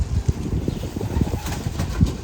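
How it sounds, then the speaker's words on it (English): Indian fantail show pigeons in a loft coo softly and flap their wings, a dense, close, continuous murmur of low cooing with occasional sharper wing flutters. "These are Indian fantail, right? Indian fantail."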